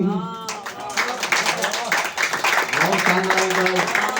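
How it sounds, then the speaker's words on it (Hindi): Audience clapping at a Hindi kavi sammelan poetry recital, steady applause filling the room after a verse, with a voice speaking over it near the start. "जोरदार तालियां"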